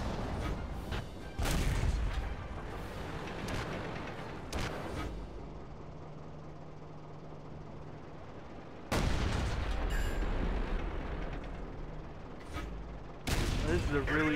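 Tank cannon fire in the video game World of Tanks, several heavy booming shots spread apart with quieter engine and battle noise between them, and someone talking now and then.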